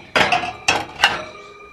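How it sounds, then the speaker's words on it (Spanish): Cooking pots, including a non-stick-free casserole and a small comal griddle, and plates clatter as they are handled and stacked, giving three sharp clinking knocks close by, each ringing briefly before fading. "Aquí tengo diferentes cazuelas también."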